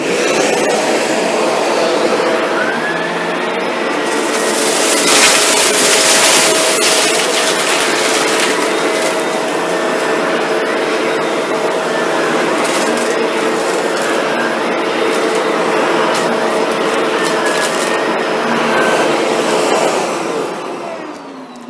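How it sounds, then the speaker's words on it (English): A Shark NV752 vacuum cleaner with its brush bar spinning runs continuously as it picks up cereal and debris from the floor, a loud steady whine with brief rattling surges as bits are sucked in. "Sometimes you have to lift the vacuum up a bit on the backstroke to get the nozzle over top of some debris"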